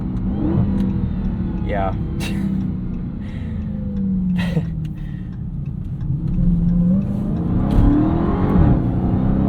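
A 717 hp 2023 Dodge Charger SRT Hellcat Jailbreak roars hard from inside the car as it launches on launch control with rear tires spinning, the engine droning and rising under excited talk.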